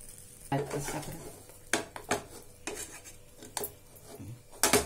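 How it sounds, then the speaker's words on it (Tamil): A ground mixture of banana, coconut and cardamom being stirred in a pan, with scraping utensil strokes and occasional sharper clinks against the metal over a low background hiss. "வாழைப்பழமும் தேங்காய், ஏலக்காய் அரைச்சு வந்தாச்சு. இப்ப இதுல நம்ம கிண்டணும் நல்லா."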